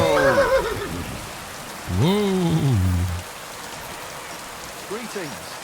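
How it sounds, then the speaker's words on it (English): Steady heavy rain in the video game Kingdom Come: Deliverance 2 patters throughout while a horse whinnies loudly several times, with a fainter whinny near the end. "Dude, that rain is coming down."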